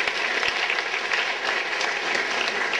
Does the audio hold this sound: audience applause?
yes